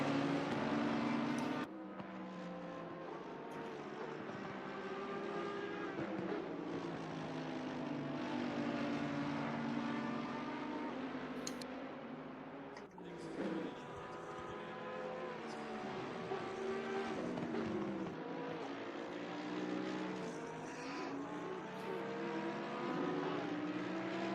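A Ferrari race car engine roars in Assetto Corsa Competizione at Zolder, a steady loud drone whose pitch rises and falls through gear changes, with a brief dip midway and no talking.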